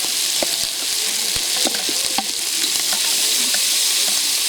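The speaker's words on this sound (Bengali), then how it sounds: "দিয়ে ভালো করে মশলাটিকে ভেজে নেবে।" Spice masala with dried chillies, chopped tomato, slit green chillies and onion frying in a pan for rohu fish curry, a steady close sizzle punctuated by scattered spatula scrapes and taps.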